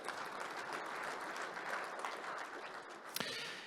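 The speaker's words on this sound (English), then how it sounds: "Let's give a round of applause for people who've been on the board and helping us that way." An audience at a soybean growers' summit claps in steady, moderate applause for a few seconds, a dense spread of hands somewhat distant and quiet, with a faint bump near the end.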